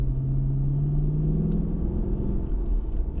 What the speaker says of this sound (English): right away I hear the little gurgle from the exhaust, but you also hear the intake noise